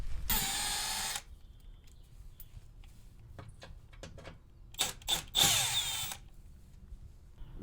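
A power tool works on the bolts of a Ford Mustang S550 EcoBoost fender panel, giving a loud whirring burst, a pause filled with small clicks and knocks, then a second strong burst.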